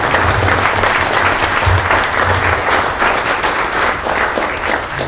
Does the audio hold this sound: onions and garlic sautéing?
no